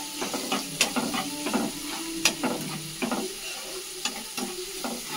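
Garam masala and chaat masala frying in a pan for rice manchurian, a quiet sizzle broken by repeated scraping stirs and sharp clinks of a spoon at an irregular rhythm.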